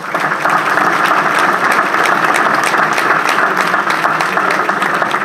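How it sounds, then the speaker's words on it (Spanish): A conference audience breaks into loud, sustained applause, dense clapping that holds steady and close throughout with a faint murmur of the crowd underneath. "Un fuerte aplauso, por favor."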